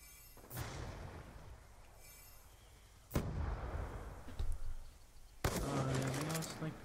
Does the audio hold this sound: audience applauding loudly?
no